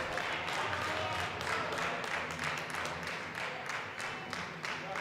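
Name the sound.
crowd applauding at a powerlifting competition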